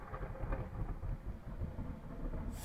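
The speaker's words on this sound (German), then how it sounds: "Fick dich, Gewitter! Verpiss dich! Ich will aufnehmen." Low rumbling thunder from a storm rolls on continuously with a steady, moderate roar, and no voices are heard.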